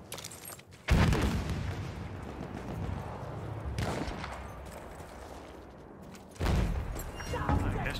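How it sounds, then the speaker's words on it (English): Battlefield 1 combat brings two loud, sharp blasts, the second rolling on for several seconds, against a steady battlefield rumble. "Grenade out!"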